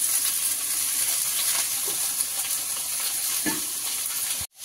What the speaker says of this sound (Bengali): এই আলুগুলোকে একটু লাল লাল করে ভেজে নেবো